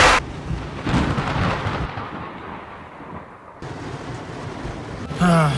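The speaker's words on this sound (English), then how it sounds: "Now it's just pouring rain." Heavy rain pours steadily near the Florida Everglades, with a broad rumble of thunder rolling through the downpour; the storm sounds close and continuous, with brief louder bursts.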